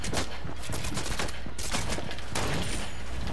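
Rapid bursts of gunfire from a sniper in an arena duos shooter video game, dense, loud and continuous across the whole span with a few sharper shot onsets standing out.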